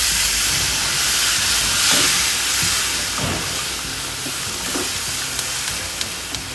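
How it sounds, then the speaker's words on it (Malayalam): Water poured into a pan of sautéed onion masala for a Kerala chapathi curry bursts into a loud, steady steaming hiss that gradually settles, close up with no talk. "ഇനി ഇതിനകത്ത് കുറച്ച് വെള്ളം ഒഴിച്ചു കൊടുക്കേ"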